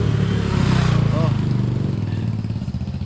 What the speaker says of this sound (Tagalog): Ang lakas ng motor guys.